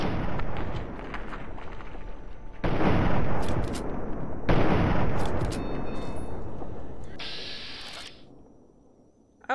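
Gunfire in Fallout 3 aimed at an enemy's hunting rifle: loud, dense blasts and rumbling explosions fill the clip in several long bursts, with sharp cracks on top, tapering toward the end.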